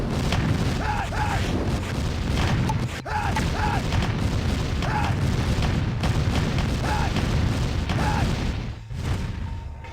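Rocket soldiers attack in Command & Conquer Red Alert, firing a steady series of booming rocket launches and blasts with repeated whooshing bursts, loud and close throughout.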